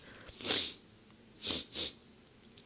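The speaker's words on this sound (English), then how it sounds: "I'm sorry, I'm sniffling." Three short breathy sniffs, close and fairly soft, the second and third following quickly after each other, with no talking.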